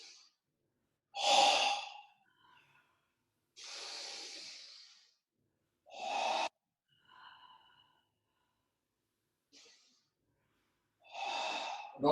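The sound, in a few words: abdominal breathing during yoga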